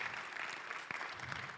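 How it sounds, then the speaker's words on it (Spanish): Applause from a church congregation during a Spanish-language sermon, a steady dense patter of clapping at moderate distance that holds evenly through the whole moment, with no talking over it. "dele un fuerte aplauso"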